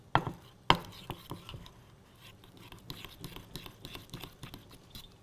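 A hand masher works butter into sweet potato, beginning with two sharp knocks and then a run of soft, quiet squishing taps. The sounds are close and uneven, with no talking.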